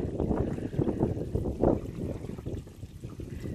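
Water rinsing through an RV black tank during a waste valve replacement, a steady low trickling and gushing flow with faint splashes, continuous and fairly close.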